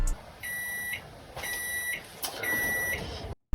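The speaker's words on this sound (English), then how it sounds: "That's my alarm." High-pitched electronic beeping in three evenly spaced bursts, each a rapid chirp, over low background hiss.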